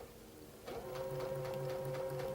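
A sewing machine runs steadily while stitching a curved seam in fabric, a close, continuous whirring hum with a fast mechanical rhythm that starts up partway through.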